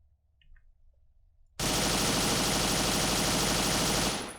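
An MG42 machine gun in the ArmA 3 Unsung Vietnam mod rips out one long, continuous burst, loud and close, after a second of near silence. The burst cuts off abruptly at the end.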